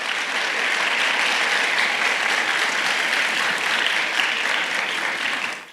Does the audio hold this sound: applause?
yes